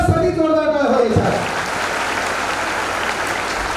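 A school audience at a student guidance event in Baramati breaks into loud, sustained applause, a dense wash of clapping that follows a brief spoken voice at the start.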